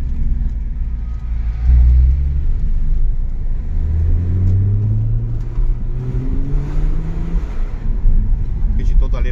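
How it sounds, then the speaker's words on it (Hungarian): A Hyundai Coupe 2.7 V6 running with a low, steady exhaust rumble throughout, swelling slightly at moments, while someone talks over it. "Lehúzom az ablakot, hogy halljátok a hangját. Kipufogol, nagyon szépen duruzsol."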